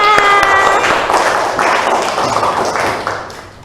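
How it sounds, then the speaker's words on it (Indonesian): A sixth-grade class in a school lesson breaks into a short burst of dense clapping, close and lively, fading somewhat toward the end, with a voice heard briefly at the start. "tepuk tangan untuk kalian semuanya"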